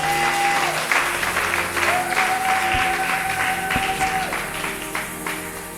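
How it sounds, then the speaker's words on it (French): A church congregation claps and cheers for the Lord, sustained loud applause filling the whole moment, with a held tone from a keyboard or organ running underneath. "Est-ce que tu peux acclamer pour le Seigneur?"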